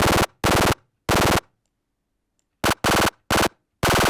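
Short, harsh bursts from a key-tracked, FM-modulated psytrance synth noise oscillator in an uneven stuttering rhythm, each burst cutting off abruptly into silence.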